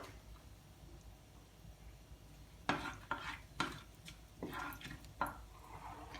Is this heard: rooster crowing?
no